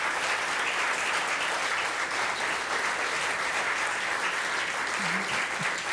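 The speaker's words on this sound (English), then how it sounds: "Can we just give them a round of applause?" A crowd at a design competition awards event claps in a full, sustained round of applause, dense and even throughout, with a faint voice briefly surfacing near the end.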